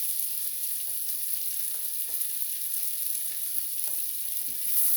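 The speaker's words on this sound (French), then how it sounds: "Là, j'ai fait fondre du beurre. Dans le beurre, j'ai émincé une grosse échalote." Chopped shallot frying in melted butter in a pan: a steady, soft, even sizzle with a few faint clicks of stirring, close and uninterrupted.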